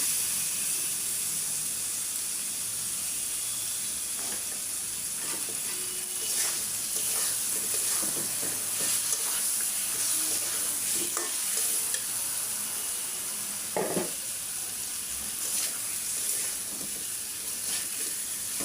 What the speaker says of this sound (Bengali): এখন মাছগুলો দিয়ে কষায় নেব।